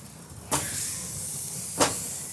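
A lemon sizzles on a super hot gas grill in a steady, close hiss, with two sharper bursts of sizzle as it touches the grates.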